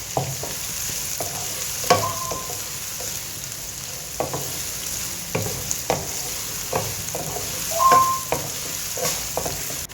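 Onions sautéing in a pan for bhindi masala, a steady close sizzle broadcast across the clip with repeated scraping stirs of a spoon and occasional clinks against the pan, no talking.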